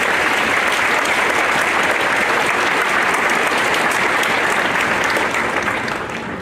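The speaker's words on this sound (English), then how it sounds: "Let's give these outstanding faculty members one more round of applause." A large commencement audience gives sustained, loud applause for outstanding faculty members, a dense continuous roar of clapping that holds steady and fades slightly at the end.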